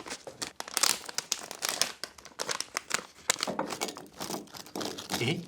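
A package of Goishi tea, a fermented tea from Kochi, is opened up close, giving loud, irregular crinkling and rustling of the wrapper in quick bursts with no talk.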